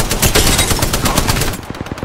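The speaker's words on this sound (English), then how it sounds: "Opening fire." Rapid automatic gunfire in a video game, a loud continuous burst of machine-gun shots with dense crackling rounds, tapering into a few separate shots near the end.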